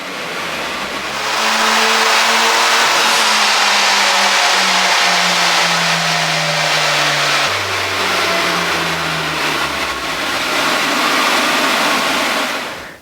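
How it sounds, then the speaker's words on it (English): A Honda Civic Type R running a Hondata tune revs hard on a dyno, loud and close: rising engine harmonics climb through the gears with a brief drop and pickup near the middle, over steady roller and exhaust roar. "So we built our own tune and went back on the dyno to see the results."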